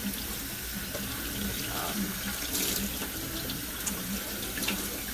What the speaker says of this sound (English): So now we're straining them and rinsing them under cold water